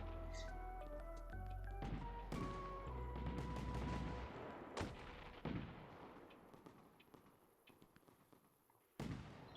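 Fireworks in the game Fireworks Mania go off in a dense barrage of sharp bangs and crackling bursts, several loud near blasts over roughly ten seconds, with a final sudden pop near the end.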